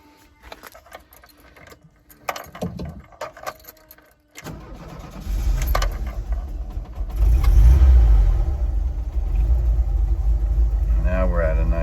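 A cold 1987 Volkswagen Vanagon engine cranks briefly and catches, then settles into a steady, close, rumbling idle with slight rises in revs; people talk before it starts.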